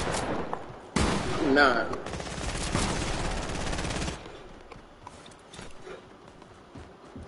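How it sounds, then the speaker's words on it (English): Shotgun blasts and surrounding gunfire in Fortnite, a loud burst followed by a couple of seconds of sustained rattling fire that then drops away, with a player speaking over the action. "Let me try this shotgun."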